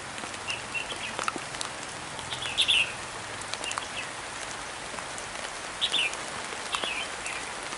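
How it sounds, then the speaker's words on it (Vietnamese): Heavy rain pours down in a steady dense hiss, with a few bird chirps breaking through now and then. "Mưa to quá mà."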